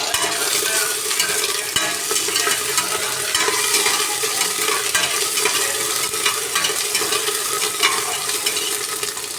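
Ginger-garlic paste sizzles steadily in a hot pan while being stirred, a continuous bright frying hiss with occasional scraping clicks from the utensil, close and moderately quiet with no talking.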